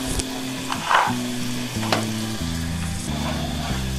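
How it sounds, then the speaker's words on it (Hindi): Masala for a potato and mungray dish fries in a pan with a continuous close sizzle and a few stirring scrapes. Background music plays throughout. "बुनाई अच्छे से हो गई।"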